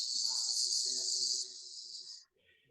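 A crowd of devotees imitates bumblebees humming, a steady high buzzing chorus that holds for about two seconds, then fades out, with faint voices murmuring beneath.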